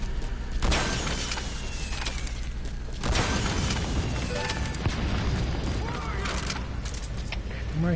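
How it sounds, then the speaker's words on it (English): Explosion in Metal Gear Solid V, a deep booming blast with a rumbling low-end tail that rolls on under ongoing game noise and radio chatter, with a second swell of rumble partway through. "Heard an explosion."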